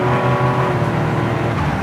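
A 1987 Buick Grand National accelerating hard, its engine note rising loud and close in a strong, steady roar for a brief burst, with no voices.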